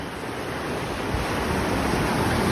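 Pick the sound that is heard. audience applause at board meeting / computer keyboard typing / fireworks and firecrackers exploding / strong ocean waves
strong ocean waves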